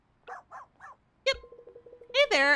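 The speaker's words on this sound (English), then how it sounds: "I see you met Gravy. Sorry about the barking." A tiny Pomeranian named Gravy gives three short yips, then a longer whining bark and a couple of high, close barks, with a person speaking briefly over them.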